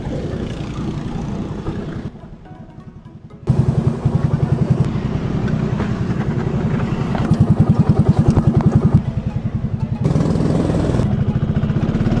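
Go-karts racing on a track at a Bangladesh karting venue, with loud, buzzing small engines revving hard close by, steady and continuous with brief dips as the throttle eases before surging again.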